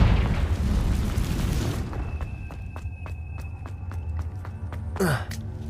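A Confringo blasting curse in Hogwarts Legacy erupts into a loud, sustained explosive rumble that drops away after about two seconds, leaving quieter game ambience with light ticking and a brief swooshing effect.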